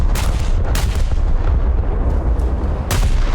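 Main gun salvo of the battleship Scharnhorst in a naval combat game: several loud, sharp booming blasts in quick succession with a heavy low rumble between them, close and dominant, no talking.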